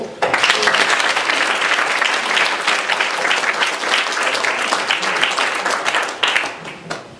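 A church congregation at an ordination thanksgiving service breaks into loud, sustained applause that lasts about seven seconds. Dense clapping fills the room before it tapers off slightly at the end.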